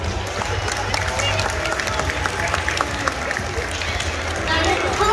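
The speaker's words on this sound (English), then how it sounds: "We give them a round of applause." Audience at a theme-park dolphin show applauding, a broad wash of clapping and crowd noise in an outdoor stadium, steady throughout and rising slightly at the end, with some babble mixed in.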